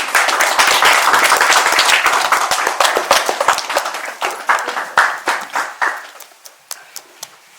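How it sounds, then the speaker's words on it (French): Family and guests at a baptism ceremony applaud a baby girl. Dense, lively clapping starts strong, then thins into slower scattered claps that fade out over several seconds. "On applaudit pour elle."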